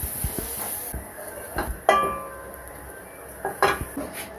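Metal utensils clink and scrape against a pan and plate as spiced chatpata potatoes are served up, a few sharp close knocks and rings over quiet background, with no talk.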